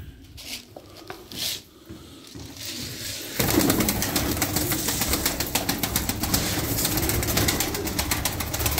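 White crested pigeons coo in a few soft calls near at hand, then a louder flurry of rapid fluttering patter and rustling takes over and continues to the end.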